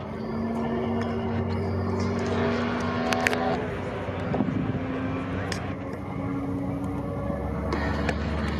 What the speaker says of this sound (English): That is a 3-cylinder Yamaha snowmobile engine.